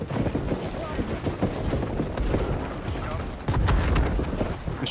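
Repeated booming cannon blasts in a war attack in the video game New World, heavy low thuds layered over continuous battle noise, with talking mixed in.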